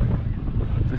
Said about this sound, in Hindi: बहुत तेज हवा है ये।